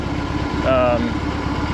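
A BMW R18 boxer-twin motorcycle engine idles with a steady, close, pulsing rumble and a slight rise in the middle, under a murmuring voice.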